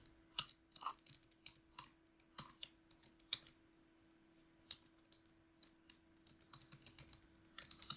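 Typing on a computer keyboard during a Kubernetes demo: irregular bursts of crisp, close key clicks with short pauses between words, fairly quiet over a faint steady hum, no voices.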